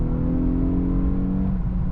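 An Infiniti Q50 with a 3.7 engine revs hard as it downshifts in manual mode. A loud, close, sustained engine drone shifts in pitch near the end of the short burst.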